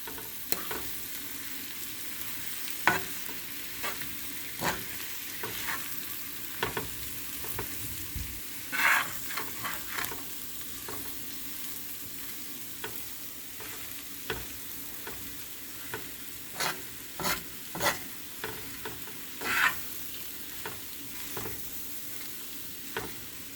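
Okra and potatoes fry on a tawa with a soft continuous sizzle, broken by frequent sharp stirring scrapes and clicks at an uneven pace, close and fairly quiet with no talking.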